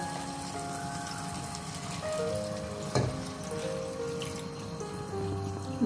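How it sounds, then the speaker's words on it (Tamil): Water trickles and splashes into a pan of Sri Lankan shrimp curry as it is poured in, a quiet continuous pour with faint sizzling underneath and a soft clink partway through. "இப்போ குழம்புக்கு தேவையான அளவு தண்ணி விடுவோம்"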